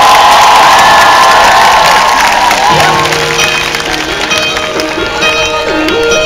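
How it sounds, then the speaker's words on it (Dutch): A crowd cheers and applauds on cue, a loud burst of clapping and whoops that tapers off as steady musical tones take over. "we hebben een knipper en een applaus op mijn teken"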